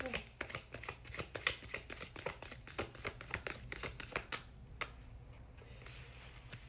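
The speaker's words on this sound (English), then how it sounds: "I dropped a card, so I'm just gonna reshuffle." A deck of oracle cards being reshuffled by hand, a rapid run of crisp riffling and tapping card sounds close to the listener that tapers off into quiet.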